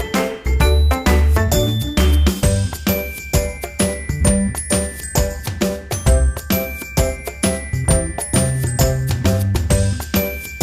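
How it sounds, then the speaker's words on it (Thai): An antique cattle or buffalo neck bell from an old Thai rice-farming museum jingles and rings in a quick, irregular run of bright metallic strikes with lingering tones, loud and close, with no talk. "กระดิ่งคล้องคอวัวควายสมัยโบราณนะฮะ"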